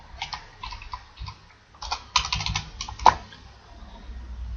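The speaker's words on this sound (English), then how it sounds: "change the field with the tab key on keyboard" Keys clack in short clustered bursts on a computer keyboard, with scattered single presses and one sharper isolated tap near the end, close and fairly quiet over a low background hum.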